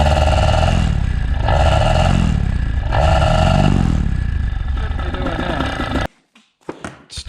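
A Blackhawk Talon 190 paramotor engine with a Walbro WB37 carburetor idles low and running rich, a loud, uneven putter that surges in repeated swells for about six seconds before cutting off, followed by brief clatter and handling noises.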